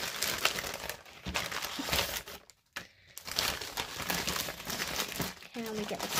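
Packaging paper crinkles and crumples continuously at close range while an online order is unboxed, with a short silent gap partway through and a voice heard faintly under the rustling.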